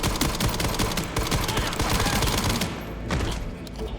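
Rapid automatic gunfire in the horror game Resident Evil 9, a dense, continuous burst of loud shots that thins out toward the end.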